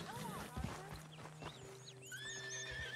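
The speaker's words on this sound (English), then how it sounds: "Agitated horses need to be calm before you can approach them." Agitated horse neighing in the video game Red Dead Redemption 2, a shrill whinny rising near the end, with clip-clopping hooves and some muffled voices in the background.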